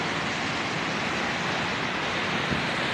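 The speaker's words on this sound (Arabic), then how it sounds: "بس الامواج والموجه تجري ورا الموجه" Sea waves roll and wash continuously along the shore at Alexandria's Cleopatra area, a steady, dense roar of surf with no pauses.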